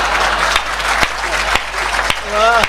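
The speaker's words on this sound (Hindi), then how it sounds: "ताली बजाता है।" Audience applause at a Hindi comedy poetry recital, a broad wash of clapping from the crowd running through with sharp individual claps and a voice briefly heard near the end.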